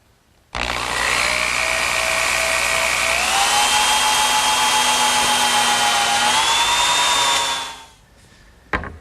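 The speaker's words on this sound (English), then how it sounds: "the first thing that I'm going to do is drill a hole for the pivot point" A power drill bores a pivot hole through a wooden side rail of a harvest table, whining steadily for about seven seconds with a slight pitch rise midway, then spinning down and stopping.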